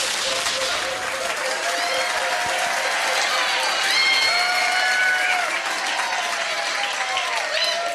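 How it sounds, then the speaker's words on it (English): A room of people at a pub music quiz claps and cheers in sustained applause, steady and lively throughout, with some voices rising over the clapping. "give them a round of applause"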